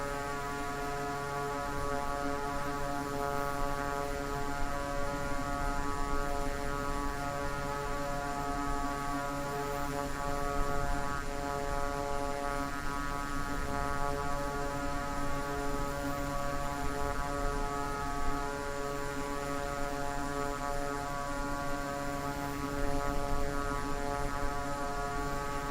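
A C90 GTX King Air propeller plane in Microsoft Flight Simulator 2024 video game, a steady droning engine and propeller hum with strong tonal whine, constant and unbroken throughout.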